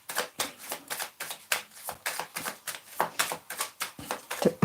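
Tarot cards are shuffled and drawn by hand in a quiet room. The riffling and snapping comes in a regular rhythm of about twenty close, crisp bursts with no talking.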